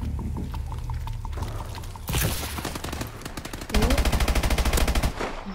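Automatic weapon fire in Call of Duty Advanced Warfare on PS4: a loud, rapid, evenly spaced burst of shots fills the last couple of seconds, after mechanical handling clicks and a rising whir.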